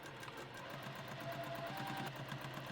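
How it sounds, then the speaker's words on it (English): A sewing machine stitches a back tack at the start of a seam on a candy corn zipper pouch, a faint, rapid, even chatter of needle strokes running steadily throughout. "Do a back tack stitch in the beginning, or a lock stitch, depends on what machine you're working with."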